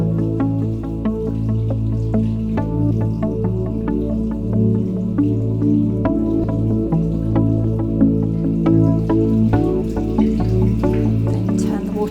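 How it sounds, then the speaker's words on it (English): Hands are rinsed under a running tap while washing. Water flows in a steady stream, with small drips and splashes that sound close and fairly loud throughout. "And then you can rinse your hands."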